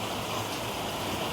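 A sudden burst of rain pours down in a dense, steady wash of noise, loud and constant throughout the brief moment, with no voices.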